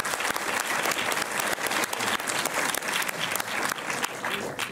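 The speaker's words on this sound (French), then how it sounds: "je vous demande de faire un tonnerre d'applaudissements pour certaines comédiennes du film" Cinema audience at the Méliès in Montreuil applauding after a film screening, a dense, steady roar of many hands clapping close and loud throughout, with no talk over it.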